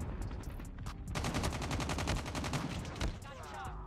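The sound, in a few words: gunfire in Call of Duty Mobile video game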